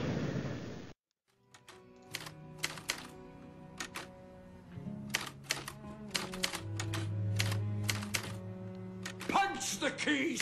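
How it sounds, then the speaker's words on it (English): Typewriter keys punched in quick, uneven bursts of sharp clacks with occasional thunks, set over a musical background after a brief loud opening section. "Punch the keys, for God's sake!"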